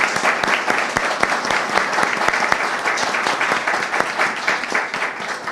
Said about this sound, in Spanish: Le pido un aplauso muy cariñoso.